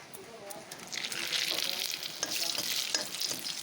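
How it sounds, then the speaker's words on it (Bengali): Dry red chillies and two bay leaves crackle and sizzle in hot oil as a spice tempering for a vegetarian taro-leaf dish, a steady close frying hiss with light stirring scrapes and no talk. "একটু শুকনো লঙ্কা দিয়ে দিলাম, আর এখন দিয়ে দেব বন্ধুরা 2টা তেজপাতা।"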